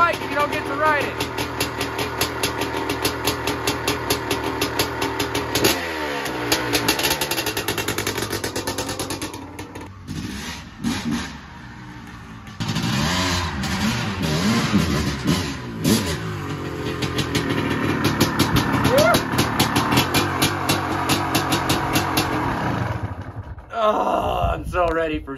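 A Honda CR500 dirt bike engine runs loud and close, revving up and down in bursts with brief dips and pauses between throttle blips.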